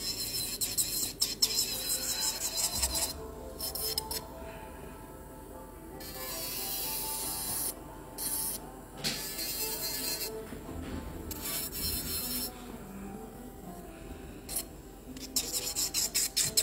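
An electric nail drill fitted with a fine bit files acrylic on a super long full set of nails, giving a close, steady rasping whine with frequent short stops and restarts.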